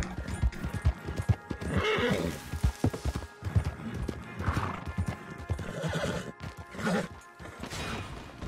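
Horse hooves clip-clop steadily in the Red Dead Online video game on PS4, a rhythmic run of close hoofbeats with an occasional whinny over dense game ambience and voices.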